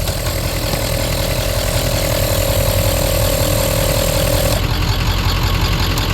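A car engine with an intermittent start, no-start fault idles steadily and loudly at close range, a sustained mid-pitched tone running through it, then cuts off near the end, leaving a lower rumble.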